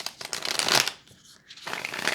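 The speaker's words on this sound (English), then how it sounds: "Feel like I need to shuffle one more time." A deck of playing cards is riffled and shuffled twice, close and crisp: a dense burst of rapid flutter, a short pause, then a second quieter run of shuffling.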